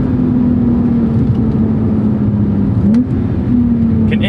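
Porsche sports car engine running in Sport Plus mode, a steady close drone with a slight pitch dip and recovery, continuous and fairly loud with no talk over it.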